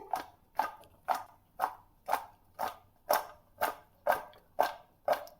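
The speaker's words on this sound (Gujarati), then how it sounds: "નિમક અને હળદર નાખી દેશું હવે એને આવી રીતે ઉપર નીચે કરી લેવાની છે" Raw mango pieces tossed with salt and turmeric. Regular, evenly spaced rustling swishes repeat about twice a second, with about a dozen tosses in a steady rhythm, close and moderately loud.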